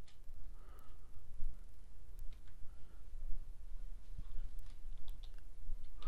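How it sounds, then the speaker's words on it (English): Keystrokes on a computer keyboard while entering a program name into an Oracle E-Business Suite R12.2.3 request form, heard as soft, irregular clicks over a steady low background hum, with no talking. "start typing the program name PRC"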